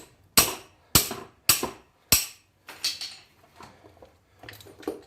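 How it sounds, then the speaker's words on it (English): Hammer blows ring out against a metal ratchet during a front differential inspection on a Suzuki Carry DB52T turbo, four loud sharp metallic strikes followed by several lighter, quicker taps close by. "Let's belt the shit out of my ratchet."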